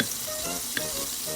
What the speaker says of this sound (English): I fry the fish